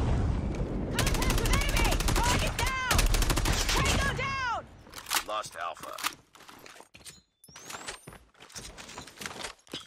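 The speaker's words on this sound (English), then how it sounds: "He's freaking sniping at me." Rapid gunfire from Call of Duty Mobile rattles in dense bursts, then thins into scattered sharp single shots and impacts, loud and close, with a voice talking over the action.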